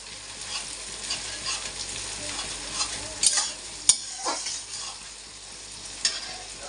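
Browned onions and tomato sizzle steadily in hot oil for chicken bhuna, with a few sharp clinks of a spoon against the pan.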